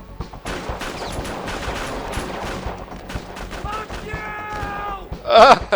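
Police gunfire in GTA 5 crackles in rapid, dense bursts of shots, a fusillade running through the stretch beneath excited talk and laughter, ending in a louder burst.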